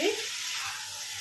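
Kolkata-style haleem being sautéed in a pan, giving a short, soft sizzle with a faint bit of voice at the very start.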